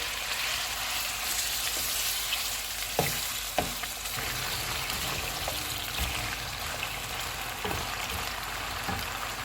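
Beef sizzles in hot oil for an achari gosht, a steady dense frying hiss with occasional stirring clicks and knocks against the pan, close and with no talk.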